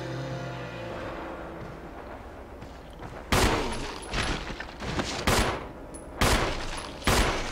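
Gunfire in the survival horror video game Resident Evil HD Remaster: a series of loud, sharp gunshot blasts with ringing tails, following a quieter stretch of game ambience.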